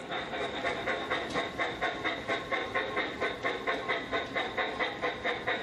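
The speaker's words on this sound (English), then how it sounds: "When Thomas is running down the tracks, you've got some sound effects synchronized with the speed of the locomotive." Thomas & Friends toy model train running along its track with synchronized locomotive sound effects: a steady chuffing, panting rhythm of regular puffs over a hissing wash, moderately loud and continuous, with no voices.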